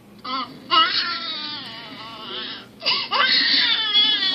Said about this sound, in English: And now I will start the baby crying.